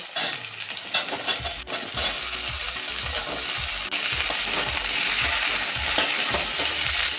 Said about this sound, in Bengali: ফুলকপিটা মোটামুটি ভাজা হয়ে গেছে